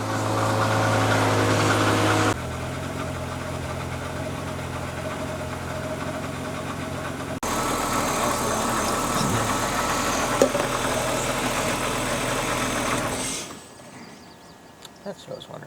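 A BMW E36 with a stanced setup and its EWS immobilizer deleted idles steadily, a continuous low rumble with a few abrupt jumps in level before it drops away near the end.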